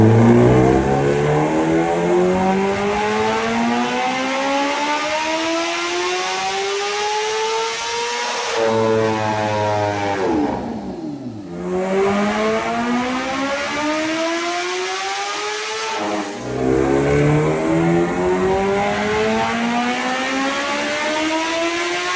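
A stock Kawasaki H2 motorcycle revving on a dyno, its engine pitch climbing steadily through the gears in long loud pulls, dropping back and rising again through several runs.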